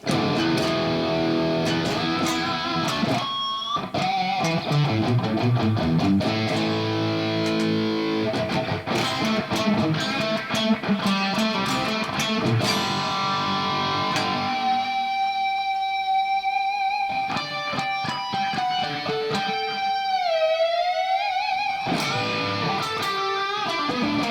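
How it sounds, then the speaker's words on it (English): Heavily distorted electric guitar, a Stratocaster with a Floyd Rose tremolo, plays continuous chords and sustained notes, loud and dense throughout, with a few brief pauses and bends near the end. "let's check out some gain with this distortion"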